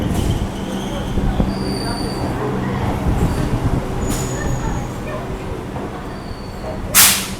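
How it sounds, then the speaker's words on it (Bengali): A train pulling out of Namkhana station on a rainy monsoon evening gives a steady low rumble of wheels and carriages with faint squeals, ending in a brief sharp burst near the close. "ট্রেন ছাড়লো নামখানা স্টেশন থেকে"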